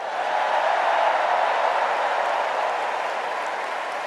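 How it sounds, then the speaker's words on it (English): A large convention crowd in a Chicago arena applauds in a steady, dense wash of clapping and cheering that holds throughout. "Let's give a special round of applause to our First Lady, Jill Biden."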